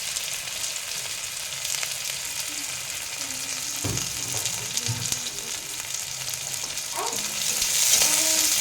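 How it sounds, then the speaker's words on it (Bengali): Spice paste for aloo dum sizzles and crackles steadily in hot oil in a pan, a broad close frying hiss throughout with a few clinks and stirring knocks, growing slightly louder near the end; no talk. "আলুর দম মশলা হচ্ছে।"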